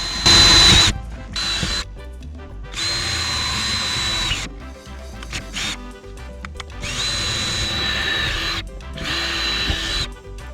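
A power drill whines loudly in repeated bursts, boring relief holes into a wooden deck, with short pauses between each hole; close and dominant with no talking.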